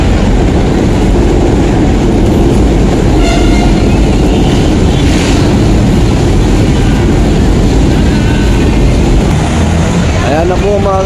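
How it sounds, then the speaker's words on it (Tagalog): An LRT light rail train passes overhead while the listener stands beneath the elevated track, a loud continuous rumble and clatter of wheels with squealing tones, lasting the whole stretch amid street noise and talk. "Ito po ang LRT po."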